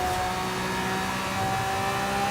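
Engine-swapped Lamborghini in Forza Horizon 5 revving hard in second gear at speed, a steady, loud, sustained engine drone with strong harmonic whine and no talk over it.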